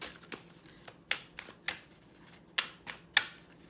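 Tarot cards being shuffled and drawn during a reading, giving a few sharp, crisp card snaps and flicks spaced unevenly over a faint background, close and moderately loud with no speech.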